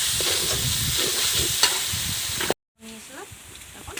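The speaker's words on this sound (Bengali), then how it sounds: "এখন ভালোভাবে লাড়াচাড়া করবো যাতে মশলা থেকে কাঁচা গন্ধটা চলে যায়।" Spice paste frying in a pan for a Bengali chicken curry, stirred with a spoon: a close sizzle under scraping stirs, cut off briefly by a short silence before the softer frying resumes.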